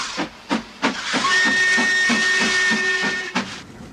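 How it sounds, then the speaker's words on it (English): A steam locomotive approaching a tunnel lets out a loud, sustained whistle over a steady hiss of steam, with rhythmic chuffing beats pulsing underneath before and after the whistle. "A combination of soot, smoke, and steam is, in my opinion, one of the disadvantages of traveling by locomotive."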